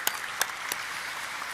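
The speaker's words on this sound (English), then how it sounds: "I think a round of applause." Applause at an IPO listing ceremony for Five Star Business Finance: three short bursts of clapping over a steady hiss, faint and distant, with no voices.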